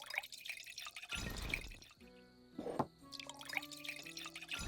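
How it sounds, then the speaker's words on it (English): Wine pours into a glass in the tavern management game Tavern Manager Simulator, a short liquid trickle and glug among soft clinks and other game sounds, fairly quiet. "How many wines must I pour?"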